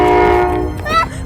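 A train horn sounds loud and close in one sustained blast that fades out, then a brief bending tone follows, with rumbling low noise underneath.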